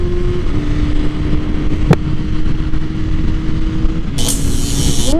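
A 2021 BMW S1000RR sportbike fitted with an Akrapovic Evolution exhaust on the move, giving a steady, loud engine rumble mixed with wind buffeting and a brief rise in pitch toward the end.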